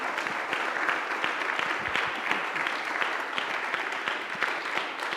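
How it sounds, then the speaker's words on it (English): A university audience claps steadily, a dense even patter of many hands sustained throughout at moderate loudness with no voices on top. "Let's give them a round of applause."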